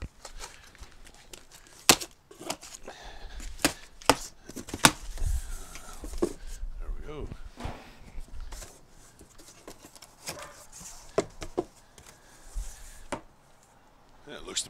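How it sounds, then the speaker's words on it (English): A knife cutting open a cardboard box for a grill attachment, heard as sharp scattered slicing, tearing and crinkling of cardboard and packing, close by, with someone talking over it. "Get our knife, cut it across that way"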